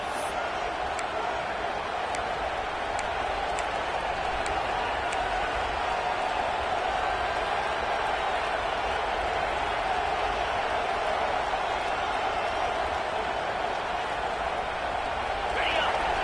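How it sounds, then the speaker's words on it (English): Stadium crowd in College Football 25 cheering in the red zone, a steady dense roar of many voices throughout with a few sharp claps or shouts, continuing under a commentator's talk. "the crowd coming to life here, trying to help this defense down in the red zone"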